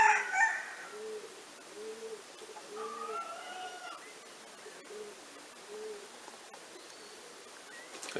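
Roosters crow in a farmyard in Montcuq, one of them hoarse; several drawn-out crows repeat in a steady pattern at moderate distance, with a brief sharper call near the start.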